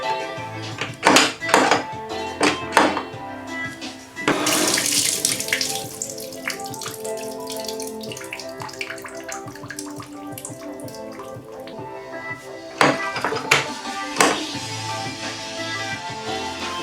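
Water running through a repaired bathtub drain in a home bathroom, a loud rushing gush after a few sharp knocks, settling into a steady flow with more thunks near the end.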